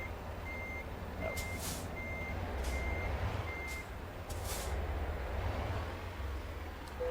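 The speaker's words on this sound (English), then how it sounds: "it's got a reverse beeper" Truck reverse beeper in American Truck Simulator on a Freightliner Cascadia hauling an extra long trailer, a series of evenly spaced beeps over a low engine rumble, with a few sharp hissing bursts of air.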